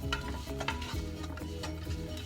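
Curry soup with curry powder, ginger, sweet potato and broccoli cooking in a pot, giving a steady close bubbling and stirring sizzle with soft utensil scrapes throughout.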